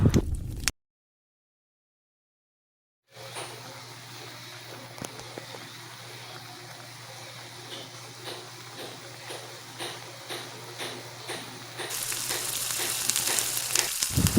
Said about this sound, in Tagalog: Bababayaan po natin itong makuluan ng mga hanggang 1 minute